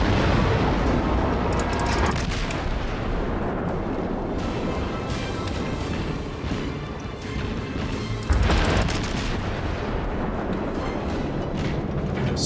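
Warship guns boom in a World of Warships naval battle, with heavy, rumbling salvos and crashing impacts rolling over a dense, loud battle din, with a big blast near the end.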